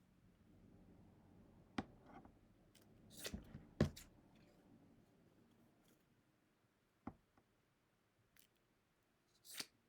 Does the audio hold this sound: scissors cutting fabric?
yes